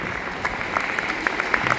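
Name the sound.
audience applause for Rolando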